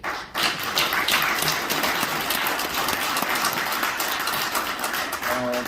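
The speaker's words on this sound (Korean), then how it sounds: "우리 장영하 변호사님께 다시 한번 박수" A crowd at a Korean political rally claps for a lawyer, steady dense applause starting abruptly after a short pause and continuing evenly at moderate volume, with a faint tone entering at the end.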